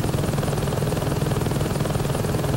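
A Vulture helicopter in Saints Row 2 gives off a steady, loud rotor drone with an even throbbing chop, constant and alone with no talk.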